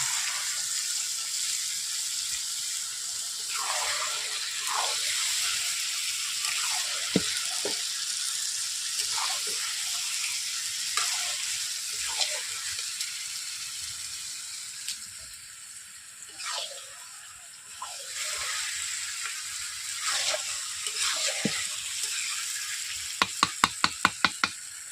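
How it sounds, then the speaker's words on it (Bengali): Marinated chicken going into a hot pan with potatoes for a Bengali red chicken curry, a steady close sizzle and fry with scattered stirring clinks and scrapes, ending in a quick run of sharp taps. "দেখতে পাচ্ছেন ম্যারিনেট করা চিকেন দিয়ে দিচ্ছি এখন"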